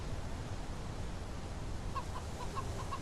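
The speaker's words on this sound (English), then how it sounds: "I keep hearing chickens." Chickens cluck in the survival game Mist Survival, a few short, faint calls arriving near the end over a steady bed of ambient outdoor noise.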